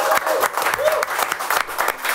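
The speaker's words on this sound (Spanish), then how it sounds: "¡Fuerte el aplauso, señoras y señores!" Studio audience applause on a Spanish-language comedy talk show, a steady wash of many hands clapping with a few cheers mixed in, loud and continuous.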